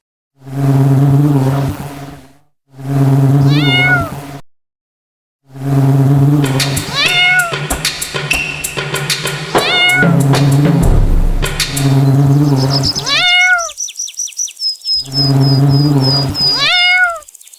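A cat meows loudly again and again in long, wailing cries, with a brief whooshing rumble partway through.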